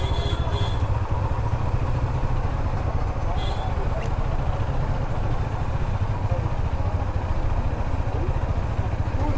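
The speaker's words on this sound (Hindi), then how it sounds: "सो बाइक को कर देते हैं अब बंद।" A KTM Duke 390 BS6 motorcycle idles steadily nearby, its low engine rumble and clatter continuous throughout, with a person talking over it.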